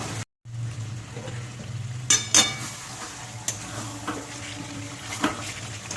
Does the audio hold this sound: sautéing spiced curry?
yes